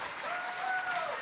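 A church audience at a Christmas Eve service applauds, a brief, fairly faint patter of clapping from a crowd.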